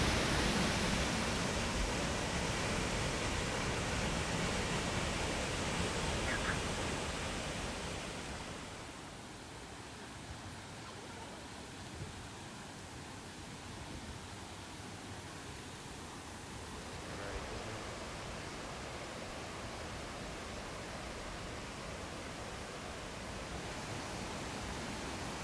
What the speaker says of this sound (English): So this one is 30 meters tall, 7 meters wide, and it's called Odaru.